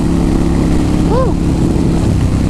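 A 2007 Kawasaki Vulcan Mean Streak 1600 motorcycle accelerates with a steady, loud, close engine roar and heavy wind rush, and a short vocal whoop rises over it partway through.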